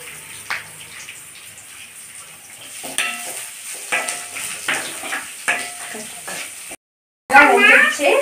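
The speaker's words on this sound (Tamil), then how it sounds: "இதில் நறுக்கி வச்ச வெங்காயத்தை சேர்த்திடலாம்." Chopped onions frying in a pan for a Kalyana murungai (thorny drumstick leaf) dosa, a soft steady sizzle with occasional clinks and stirring scrapes, ending in a sharper burst of frying after a brief silence.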